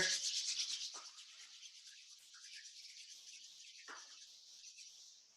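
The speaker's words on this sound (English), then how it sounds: "Let's rub our hands together." Hands rubbed together briskly during a qigong class, a close, hissy friction sound that is loudest at first and then eases into steadier, softer rubbing.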